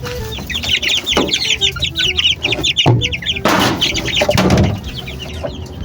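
Young chicks cluck and chirp repeatedly at close range while being fed, with quick, overlapping calls and a few bursts of shuffling or rustling from the birds.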